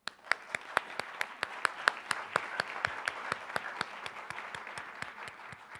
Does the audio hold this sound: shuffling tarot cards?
no